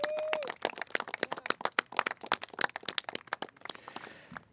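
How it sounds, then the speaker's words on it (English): A round of applause for elected officials supporting Bronx Community College: dense, rapid clapping from a crowd, steady and fairly close, with a short tone at the start and the clapping thinning out toward the end. "so big round of applause to them,"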